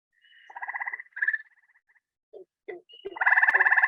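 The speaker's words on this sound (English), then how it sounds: "So here's what Hyla versicolor, one of the gray tree frogs" A gray tree frog (Hyla versicolor) calls with a flute-like, bird-like trill, several short pulsed bursts separated by brief pauses, close and clear against a quiet background.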